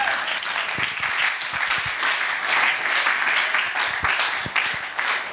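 An audience at a Karakalpak stand-up comedy show claps, a steady wash of applause from a full room that carries on for about five seconds with no one speaking.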